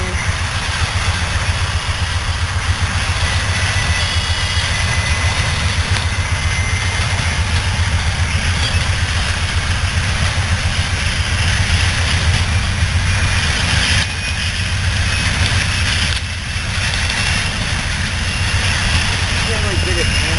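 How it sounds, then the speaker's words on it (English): A CSX freight train led by two locomotives speeds past, making a loud, steady rumble of engines and rolling wagons that holds for the whole stretch, with talk nearby. "Speeding fast CSX train."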